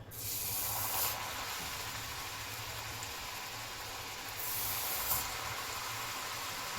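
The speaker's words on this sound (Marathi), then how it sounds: "चांगलं तेल आपलं आता गरम झालेलं आहे आपण आता त्याच्यामध्ये ह्या चकल्या सोडून घेऊ" Chakli spirals made from roasted chana dal and rice flour dough sizzle steadily in hot oil, a loud continuous frying hiss that swells again near the end.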